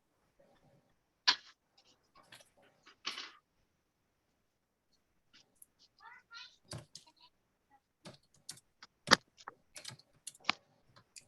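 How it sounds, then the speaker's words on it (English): Scattered bursts of keystrokes on a computer keyboard, irregular clicks with pauses between, fairly close and quiet, no talking. "I'm typing to Cookie."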